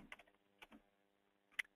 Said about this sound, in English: typing in exposure